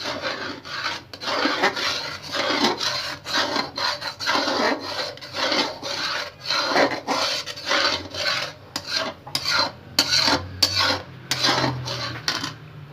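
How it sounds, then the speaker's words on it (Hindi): Continuous rhythmic scraping of a spoon against the bottom of a pot of kheer, rice pudding made with milk, stirred quickly to keep it from sticking. The strokes are steady and close, with no talk. "अब इसे हिलाने का काम है जी कि लगे ना"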